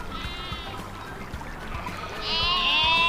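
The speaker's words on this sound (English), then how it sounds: "Wow! Look at these goats!" Goats bleating at a zoo in Antalya, Turkey, with several wavering calls, the loudest and closest near the end, over steady outdoor background noise.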